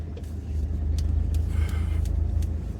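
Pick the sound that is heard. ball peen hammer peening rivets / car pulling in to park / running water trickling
car pulling in to park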